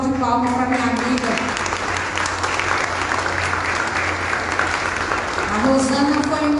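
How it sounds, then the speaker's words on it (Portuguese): Dense, sustained applause from a church congregation fills the whole stretch at steady loudness, with a voice rising briefly above it near the start and again near the end. "Eu quero que vocês dêem uma salva de palmas para minha amiga"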